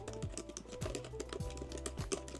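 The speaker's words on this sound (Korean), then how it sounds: "키보드 타이핑 느낌은 어때?" Quick, even keystrokes tap on the keyboard of a pink MacBook Neo, light and close, in a steady run of clicks with no talk.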